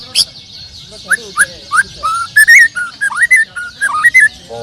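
White-rumped shama (murai batu) singing clear, varied whistled phrases in quick bursts, close and loud, with a faint dog bark early and a low murmur of people underneath.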